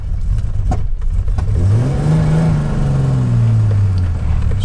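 A Puma GTB sports car with a 4.1 engine and four-speed gearbox blips its throttle, rising to a loud, close rev and then falling back to a rough idle.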